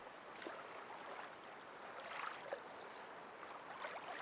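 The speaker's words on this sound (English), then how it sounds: "Just hear the gentle lapping of the river." Gentle lapping of a river at a stone bridge, a soft, steady watery wash with faint splashes, even and close, with no talking.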